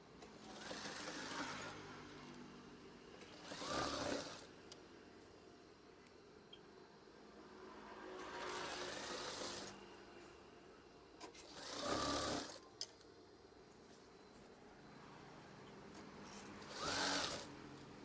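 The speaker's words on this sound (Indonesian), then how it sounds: "Jahit secara perlahan, tetapi pasti dan bagus." A sewing machine stitches curtain fabric in four slow, steady bursts of whirring, each lasting a second or two, with quiet gaps between them.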